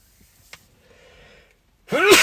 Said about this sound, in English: It's the sun shining into my eyes, making me sneeze.